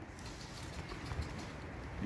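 A Ballı pigeon with an orange eye ring, a stray caught in a loft, gives soft low coos near at hand over a steady, faint room hiss, with no voices.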